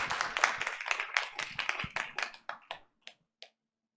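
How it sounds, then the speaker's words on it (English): A Board of Education meeting audience applauds newly sworn members, with a short burst of close, crisp clapping that thins out and ends in a few isolated final claps before quiet. "Give them a round of applause"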